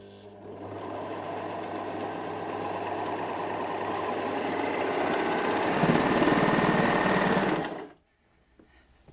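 Brother 4234D overlocker stitching fabric with a blind hem foot fitted, a steady rapid mechanical whir that builds slightly in pace for several seconds before stopping abruptly.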